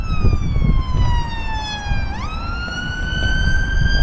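Ambulance siren passing on a street in Birmingham, a loud wailing tone that sweeps down, jumps back up as it goes by and holds over traffic rumble.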